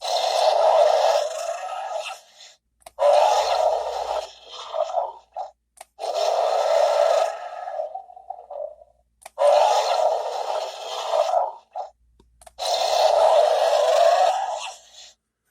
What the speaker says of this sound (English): we'll go ahead and listen to the sounds of our Carnotaurus